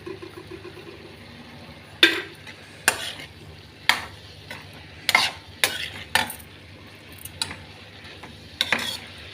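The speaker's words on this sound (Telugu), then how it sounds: "ఇవన్నీ కొంచెం బాగా వేగాలండి ఈ బట్టర్లోను మనము." Mixed vegetables with salt and masala fry in butter in a pan, giving a steady low sizzle broken by sharp, irregular clinks and scrapes as a spatula stirs them.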